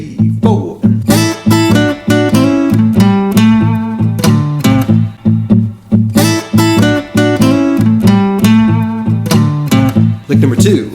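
An electric blues guitar plays double stop licks over a backing track with drums and bass, the paired-note phrases and rhythmic strums sounding loud and up close throughout with no talking.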